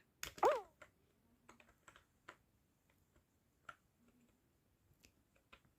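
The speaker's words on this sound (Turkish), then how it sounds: "Hatta klavye sesi de duyabilirsiniz belki." Computer keyboard keys pressed while playing Stumble Guys on a phone: sparse, irregular clicks and taps at close range, quiet overall, with one louder burst near the start.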